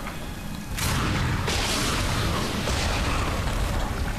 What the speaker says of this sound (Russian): Это я, похоже, выстрелил из пистолета